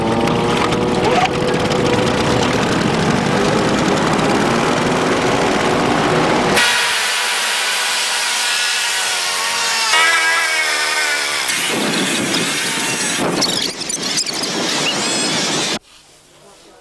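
Lawnmowers and whippersnippers run loud and continuous at a suburban yard cleanup, their engine drone shifting as machines come and go before cutting out at the end.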